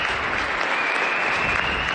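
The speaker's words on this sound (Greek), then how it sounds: "Όλοι σηκώνονται όρθιοι και τους χαρίζουν το πιο ζεστό χειροκρότημα." An audience in Athens stands and applauds warmly, dense continuous clapping loud and close that fills the whole moment without a break.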